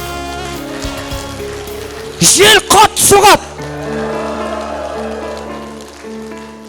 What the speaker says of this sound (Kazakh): Бір кезде жаңбыр жауып кетеді.